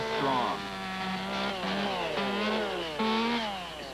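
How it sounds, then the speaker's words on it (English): An Echo chainsaw engine revs up and settles repeatedly, its buzzing pitch sliding up and down in several loud, close surges. "You're serious about your chainsaw. You want an Echo."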